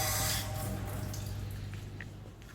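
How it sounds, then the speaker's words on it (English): Water rinsing down winery equipment, a steady close splashing spray with a few drips, gradually fading over a couple of seconds with no talking. "So I just wash it all down."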